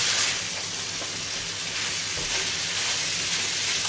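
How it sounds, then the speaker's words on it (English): Chopped carrot, celery and onion hit a hot pan and sizzle steadily, a dense, close hiss of frying that holds at an even level from start to finish with no voices. "So it's right at this point that we can dump all the veg in apart from the spring onions."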